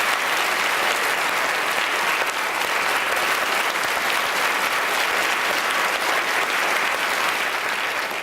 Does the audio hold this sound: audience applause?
yes